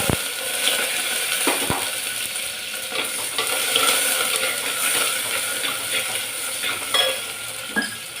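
Mustard seeds, fenugreek, curry leaves and dried chillies fry in hot oil with a steady loud sizzle and crackle, punctuated by sharp pops and light scrapes of stirring, close and continuous with no talking.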